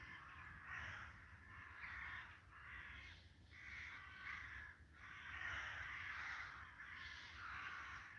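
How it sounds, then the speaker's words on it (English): Crows cawing in woodland, repeated harsh calls coming in rough bursts at a moderate distance over a soft, steady outdoor background, with no voices. "Just enjoying the peace of nature, the crows and the wood pigeons."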